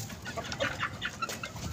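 Chickens clucking close by in a farm setting, a series of short, overlapping clucks and squawks in an irregular rhythm at moderate loudness, with no talk over them.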